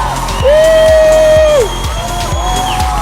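A studio audience at a 2009 Brazilian TV talk show cheers and whoops loudly for about three seconds, with a bright sustained whistle rising above the crowd noise.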